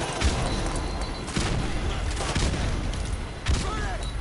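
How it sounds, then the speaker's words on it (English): Grenade explosions and gunfire in the video game Modern Warfare 2 Remastered, a dense, loud barrage of repeated booms and shots with several sharp blasts, under faint player speech. "Grenades for everyone."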